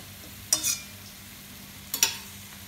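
Fried mushrooms being sautéed in masala in a pan for paneer mushroom masala: a low, quiet sizzle broken by two short, sharp spatula scrapes about a second and a half apart.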